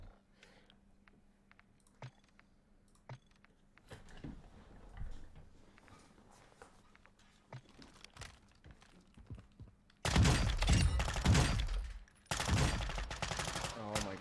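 Gunfire at a shooting range in a video game, at first sparse scattered shots under clicking keyboard sounds, then loud, dense bursts of rapid fire dominating the last few seconds.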